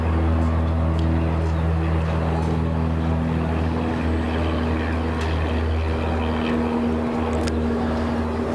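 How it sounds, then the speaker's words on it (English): A small plane revs on runway 29 at Christchurch Airport, New Zealand, its propeller engine a steady, loud drone that holds constant throughout with no voices. "Small one's about to take off on runway 29."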